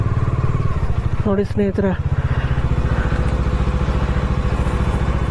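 A motorcycle engine runs steadily at close range throughout, with a brief burst of speech over it partway through.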